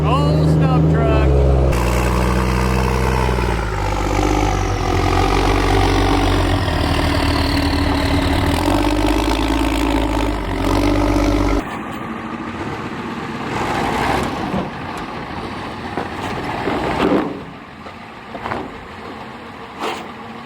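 An old Stubb truck engine idles in an offroad setting with a deep, steady rumble that later drops in level and turns rougher, with brief bumps and clatter near the end.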